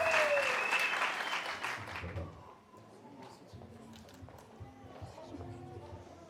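Wedding guests applaud loudly together, the clapping fading out after about two seconds, followed by quiet shuffling, footsteps and faint voices.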